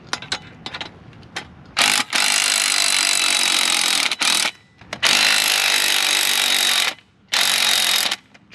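A power drill or impact tool runs in loud bursts of a few seconds each, separated by short pauses, while working on a Pontiac G8's shocks and struts with a battery running low.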